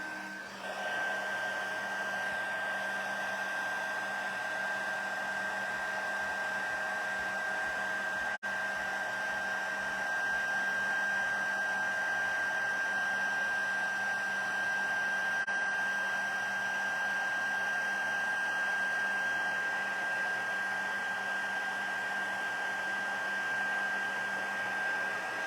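A heat tool blows hot air steadily for heat embossing on holiday gift tags, a close, continuous whirring hiss with a high whine that runs unbroken throughout.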